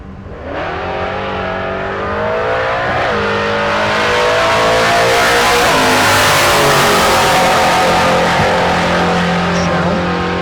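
A drag race car accelerating hard down the strip at Tulsa Raceway Park, its loud engine revving up through rising gear pulls. A brief tire chirp is mixed in, and the roar stays strong throughout.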